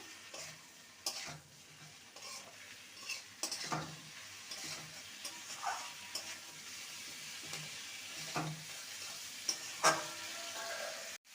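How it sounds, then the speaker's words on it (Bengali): Winter vegetables with spices being stir-fried in a pan for catla fish curry, a steady sizzle broken by repeated scraping strokes of a spatula, close and fairly quiet, with no talk. "ভালো করে কষিয়ে নেব মশলার সাথে সবজিকে"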